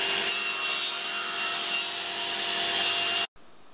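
Wooden boards being cut to size for a simple homemade birdhouse give a steady, close rasping rub of sawing that runs for about three seconds and stops abruptly, leaving quiet room noise.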